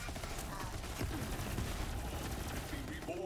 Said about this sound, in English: I'm going to shoot.